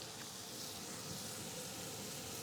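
Butter sizzling on a flat skillet while a spatula spreads it, ahead of raw tortillas for shrimp tacos, a steady close crackling hiss with no voices.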